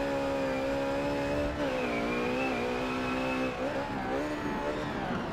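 Jaguar XJS V12 in the Forza racing game, a steady loud engine drone that shifts pitch as the car brakes hard into the final corners, with faint tyre scrub, no talking.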